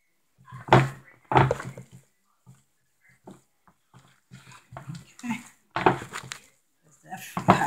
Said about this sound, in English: Mixing it, rolling it